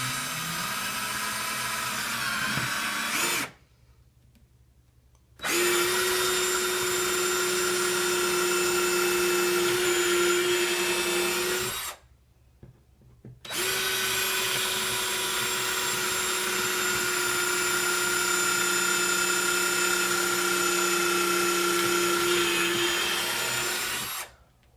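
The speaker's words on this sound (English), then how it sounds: "We're going to drill through, we're going to pre-drill holes for it" A power drill pre-drills screw holes for a can-and-string instrument, whining in two long sustained runs separated by short pauses, loud and close with a steady motor tone.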